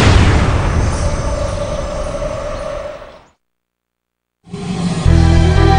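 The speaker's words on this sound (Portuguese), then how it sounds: "Nós viemos de uma grande explosão." A single loud explosion booms and rumbles, decaying into silence before another heavy burst of sound returns.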